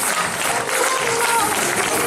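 Audience applauding at the closing and awards ceremony of an Arab film festival in Fameck, a steady broadband wash of clapping that fills the whole stretch with a murmur of voices mixed in.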